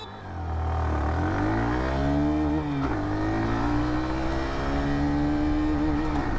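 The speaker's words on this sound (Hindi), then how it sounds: "एक्सेलरेशन टेस्ट मैं आप लोगों को इसकी करके बता दूँ। फर्स्ट गियर पर मैंने ऑलरेडी बाइक को रख दिया है।" A 2023 Hero Glamour Xtec 125cc motorcycle accelerating from first gear, the engine note climbing steadily in pitch, briefly dipping at a gear change near three seconds, then rising again, close and loud with no talk.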